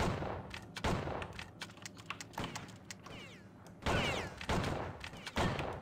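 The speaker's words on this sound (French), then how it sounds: "Ça tire derrière moi." Gunfire in the Outlaws video game erupts behind the player in several sharp, loud bursts separated by quieter stretches, with some rapid crackling shots; no one speaks.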